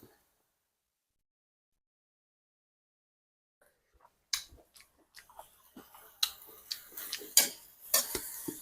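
Stir-fried young pumpkin shoots are tasted and chewed after four seconds of near silence, then come close, soft crunching and wet chewing clicks in an irregular run, with the loudest bites near the end.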